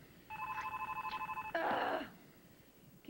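A telephone bell rings in one long pulsing burst, then a louder, harsher ring follows before stopping, loud and close, with no talking over it.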